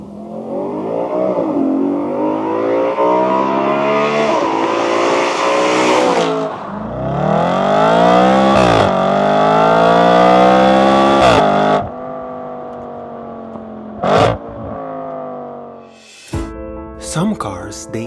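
A B8.5 Audi RS4 Avant engine revs hard and repeatedly, rising and falling in pitch with loud roaring bursts, then sharp blips of the throttle near the end.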